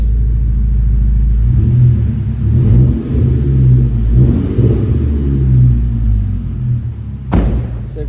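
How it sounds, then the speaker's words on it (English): A Volkswagen Scirocco R TSI with a Stage 2 Revo remap idles warm with a low steady rumble, swelling into a couple of small revs before settling back, then a sharp thump near the end. "so I'll get a couple of small revs"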